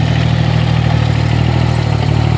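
Kubota L2202 farm tractor diesel engine idling steadily up close, a constant low rumbling throb with no voices.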